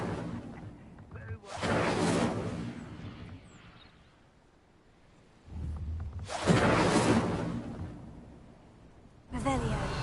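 The Incendio fire spell cast in a video game: three separate whooshing, roaring bursts, each flaring loudly and then fading over a second or two, with quieter gaps between them.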